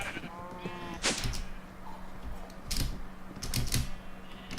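Sheep bleat in a crafting video game, several short nasal bleats standing out over a faint steady hum, with sharp clicks like keystrokes scattered through.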